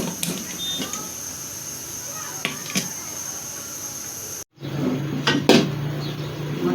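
A lid lands on a cooking pot of beef karahi with a couple of sharp metallic clacks amid kitchen clatter, close and fairly loud, following a steady background hum.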